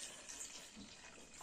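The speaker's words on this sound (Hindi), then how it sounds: "तो ये रहा हमारा शेकर, पहले हम पानी कर लेते हैं।" Faint, steady splashing rush of water being poured into a protein shaker bottle, quiet and continuous with no talking.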